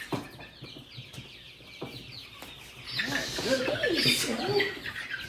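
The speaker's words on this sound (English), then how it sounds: "Get over here, chicken." Chickens cluck on a small New Hampshire farm, at first softly beneath a person's low talk, then swelling into louder, close agitated clucks and squawks toward the end.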